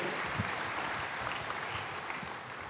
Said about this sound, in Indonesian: Berikan tepuk tangan bagi Tuhan, haleluya.